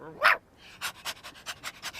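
A cartoon sheepdog pants after running on a farm, several quick breathy puffs in a steady rhythm, close and moderately loud, following a brief burst of voice at the start.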